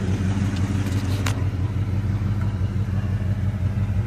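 Steady, close engine rumble from a 1987 Jeep Grand Wagoneer, fairly loud and continuous with no voices.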